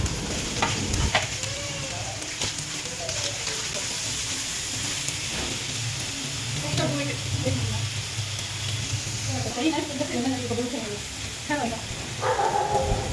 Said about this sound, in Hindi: और अच्छे से सब्ज़ियों को मिक्स करने के बाद